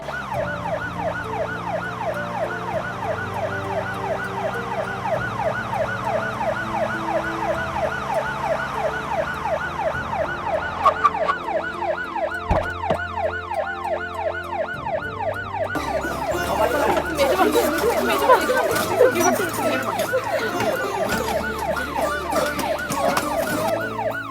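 An ambulance siren wails continuously in repeating rising and falling sweeps, fairly loud and close, with traffic rumble underneath and a second siren joining later.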